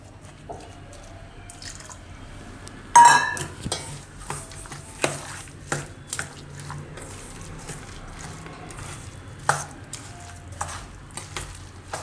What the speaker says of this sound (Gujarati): થોડું થોડું નાખતું જવાનું, મિક્સ કરતું જવાનું